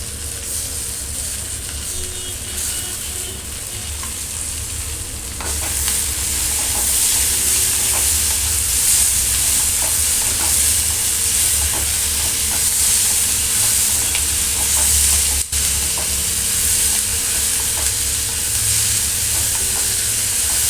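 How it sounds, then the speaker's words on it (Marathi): Onions and tomatoes fry in a pan for paneer do pyaza, a loud continuous sizzle and hiss that swells heavier partway through, with faint stirring scrapes and no talking. "आता आपण कांदा परतून घेतलाय तर आपण याच्यात टोमॅटो टाकणार आहे"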